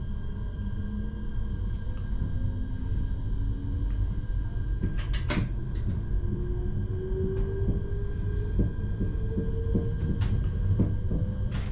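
A Siemens Desiro Classic electric multiple unit pulls away from Lakatnik station in Bulgaria, heard from inside the cab. A steady low rumble runs under rising traction motor whine, with occasional sharp clicks and clanks as it gathers speed.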